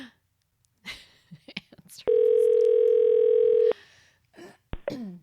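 A telephone dial tone hums steadily for about a second and a half while a phone call is placed. Short bursts of talk and small noises come just before and after it.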